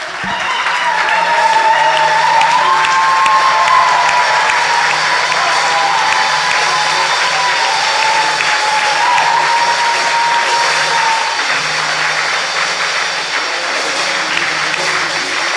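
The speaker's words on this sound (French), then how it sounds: "Vous acclamez pour vous ou c'est pour lui que vous acclamez?" A church congregation at a thanksgiving service applauding and cheering, a sustained dense wash of clapping with crowd voices mixed in, steady and loud throughout.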